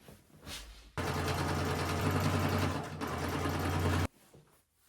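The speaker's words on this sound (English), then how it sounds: "We're going to hem along the perimeter here and then along the top and the sides and the bottom." A sewing machine hems raw fabric edges on side-tie pants, running in a close, rapid buzzing burst of about three seconds with a brief dip partway through, framed by quiet handling noise before and after.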